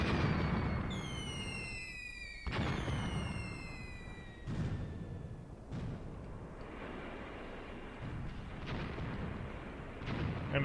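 Repeated distant gunfire and artillery-like booms in the WWII tactical war game Graviteam Tactics, sharp reports at irregular intervals over a steady rumbling battlefield background, with whistling descending tones early on.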